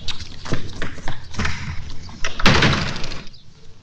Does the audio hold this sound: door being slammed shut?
yes